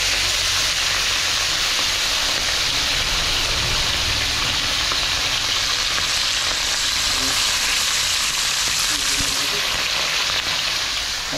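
Fish sizzles steadily in hot oil in a pan, a dense continuous crackle and hiss with faint pops, close and loud throughout with no talking.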